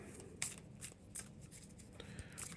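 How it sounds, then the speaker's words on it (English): A deck of cards from the Marvel Champions card game is shuffled by hand, producing a few quick riffling bursts close to the microphone, quiet and without talk. "Shuffle my deck."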